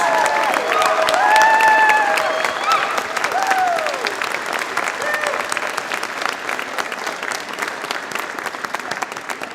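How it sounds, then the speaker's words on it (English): A graduation convocation audience applauds the families and friends of the graduates at a spring morning ceremony, a dense, sustained wave of clapping that swells early and holds steady, with a few whistles rising over it. "a round of applause for your family and your friends"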